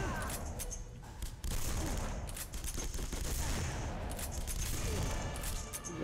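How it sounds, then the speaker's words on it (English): Machine gun fire in The Punisher video game, a dense sustained fusillade of rapid automatic bursts with crashes, loud and continuous throughout. "Any sticky situations, pull out the machine guns."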